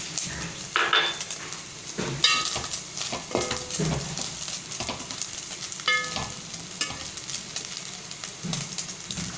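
A spoon stirs and scrapes a chicken, potato, chili flake and salt croquette mixture with all-purpose flour in a pan, producing a steady soft sizzle broken by repeated metallic clinks and scrapes.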